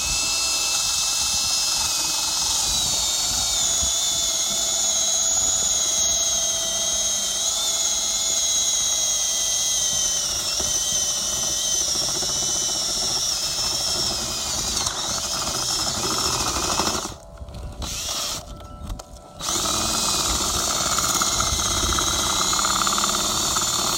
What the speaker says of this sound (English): So if we were going to drill through,